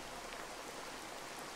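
Rain falling in the video game CrossWorlds: Escape, a soft, even hiss of steady rainfall, faint and continuous with no other sounds.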